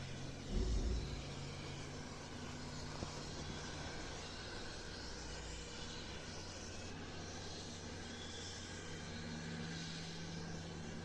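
Airplane engines drone while passengers board a flight from Kolkata to Bhopal, a steady, even hum filling the whole stretch with a faint low thump near the start and no talk.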